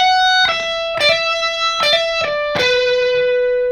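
Electric guitar picks out the riff from a song as a melodic lead, with five distinct sustained notes and slides ringing with rich overtones, close and clear, with no voice over it.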